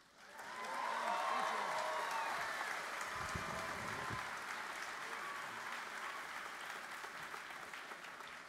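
A high school graduation audience in 2023 bursts into sustained applause and cheering that swells quickly and continues steadily, with scattered whoops in a large hall.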